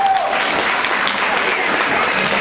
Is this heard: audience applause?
yes